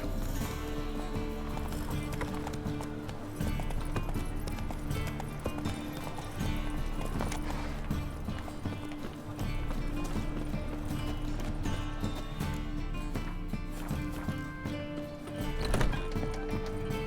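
Horse hoofbeats as Roach gallops in The Witcher 3 video game, a continuous clip-clop under a dense layer of game music and ambience, with the steady rhythm lasting throughout.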